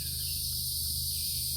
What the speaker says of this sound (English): as the cicadas go wild